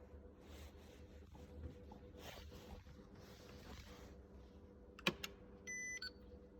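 An electronic test device checking linear lighting on a construction site gives one short, clear high-pitched beep near the end. Before it there is a low, steady machine hum and some faint handling noises.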